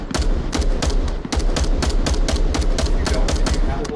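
Weapon fire in the virtual reality shooter Onward: a long run of loud, sharp, evenly spaced gunshots, steady and close, without pause.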